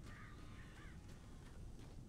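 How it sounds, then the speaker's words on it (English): Crows cawing in the Alan Wake video game, a few harsh, raspy caws over a constant low rumbling ambience, faint and somewhat distant. "It's a lot of birds."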